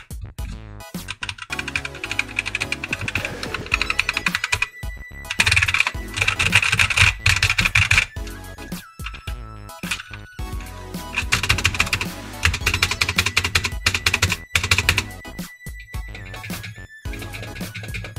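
A non-mechanical computer keyboard is typed on in quick bursts of close, clattering keystrokes, broken by short pauses and a few harder taps, with no talking.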